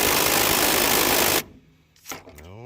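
An impact gun loosens a tight 11 mm bolt on the steering column of a 1992 Chevy S10, a loud, dense rattling burst lasting over a second that stops abruptly, followed by quieter clicks and a voice.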